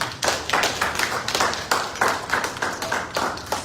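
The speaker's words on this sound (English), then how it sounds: "Can we clap for him?" Audience clapping during an interview event, a close, rhythmic run of fairly loud claps with uneven pulses from several people, steady for a few seconds with no talk over it.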